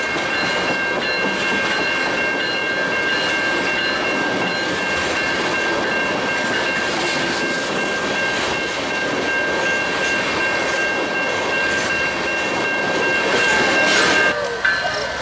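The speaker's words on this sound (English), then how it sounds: "a westbound Union Pacific auto rack train pulls up to the signals." A westbound Union Pacific auto rack freight train rolls steadily past at close range, its wagons keeping up a continuous loud rumble and rattle with metallic squeal tones, swelling slightly near the end.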